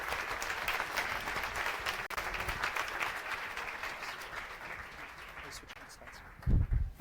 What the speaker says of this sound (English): Please give a roaring applause for Anton Eckerström.